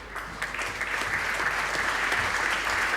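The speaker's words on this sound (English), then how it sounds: "You're clapping them, are you?" Audience applause at a university graduation ceremony in Manchester, a dense, steady burst of many hands clapping in a hall, heard on its own for a few seconds.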